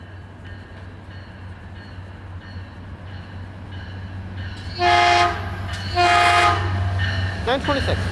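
A Caltrain train led by an MP36 locomotive passes through a station, its steady rumble joined by two loud horn blasts near the middle and a brief squeal at the end.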